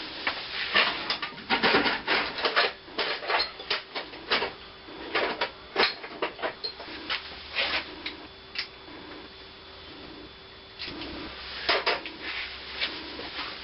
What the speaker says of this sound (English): Now let me just remove the hammer block.